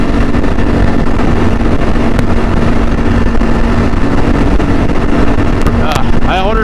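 A CSC RX4 motorcycle cruises at highway speed, its engine drone buried under heavy, steady wind rush that stays loud throughout.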